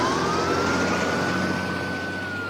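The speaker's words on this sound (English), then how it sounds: "Siren blaring, the squad car speeds over to the mole's dimly lit apartment" A police squad car siren wails steadily in a city street, one long continuous tone sliding slowly up then easing down, loud and near over a dense traffic-like rumble, with no voices.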